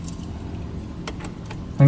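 Brief metallic jingle of a Daihatsu Ayla's car keys, separate from the remote, handled close by, with a low steady background hum and a louder knock at the very end.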